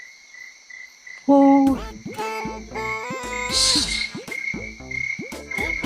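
A frog croaks loudly and repeatedly right up close at night in quick bursts, while insects keep up a thin, steady chirping behind it.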